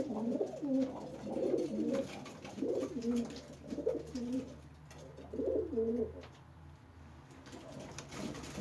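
Pigeons coo in repeated low, throaty phrases, several birds close by inside a loft, with a steady background hum and no talking.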